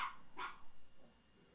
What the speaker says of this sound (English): Does he literally bark at everything?